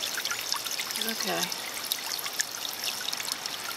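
Water pours out of a potted African violet in a steady close trickle that runs throughout, while someone briefly speaks over it.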